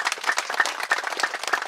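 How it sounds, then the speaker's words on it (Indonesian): Audience applause at a military-hosted farmers' gathering in Jayapura, Papua, brisk overlapping claps with a rhythmic pulse, fairly close and moderately loud. "Tepuk tangan dulu"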